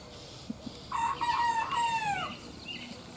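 A rooster crows once, a loud drawn-out cock-a-doodle-doo close by, preceded by a couple of soft clucks from a calm hen and followed by quieter background sounds.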